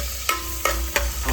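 Onions fry in hot oil with a constant close sizzle, punctuated by three evenly spaced knocks of a spoon against the pan.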